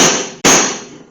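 A hammer strikes a punch to drive a spindle bolt out of a Craftsman riding lawn mower's blade spindle: two loud, sharp metallic blows about half a second apart, each ringing briefly before fading.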